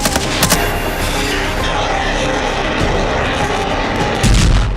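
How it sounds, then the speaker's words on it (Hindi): A missile strike on a Russian military command centre roars as a loud, sustained blast of rumbling noise, with a heavier low thud swelling at the end. "रूसी कमांड सेंटर में मिसाइल धमाके से भारी तबाही हुई है"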